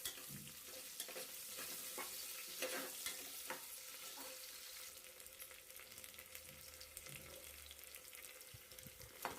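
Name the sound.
onions frying in oil with fennel and curry leaves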